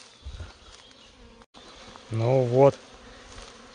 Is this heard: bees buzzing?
yes